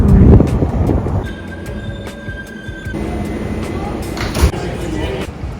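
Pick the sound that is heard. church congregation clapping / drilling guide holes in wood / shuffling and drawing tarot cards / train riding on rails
train riding on rails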